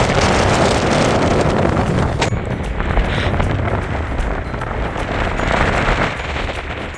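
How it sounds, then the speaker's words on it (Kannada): Strong wind at Mullayanagiri peak roars and buffets the microphone in a loud, continuous rush with gusting surges, and no voices are heard. "ನಮ್ಮನ್ನೇ ದೂರ ಬಿಡುತ್ತೆ, ಅಷ್ಟೊಂದು ಗಾಳಿ ಇರುತ್ತೆ"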